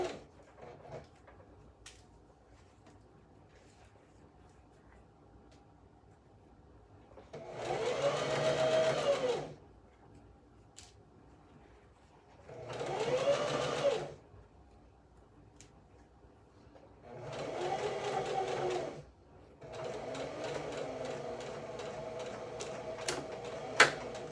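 Sewing machine stitching ruffles and flutter trim on a dress, running in three steady bursts of a few seconds each with quiet pauses between, then a longer run at the end, close and clear with no talking.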